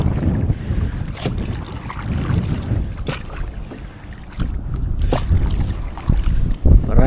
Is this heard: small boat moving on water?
yes